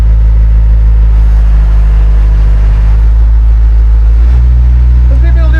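An Argo amphibious ATV engine pulls steadily up a ramp, a loud, close, deep drone holding constant revs without bogging down, with a slight shift in tone near the end.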